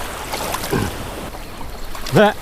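Waves wash and surge around a kayak pulled up on a shoreline at a fishing spot, a steady rushing swash with soft splashes, and a brief voice near the end.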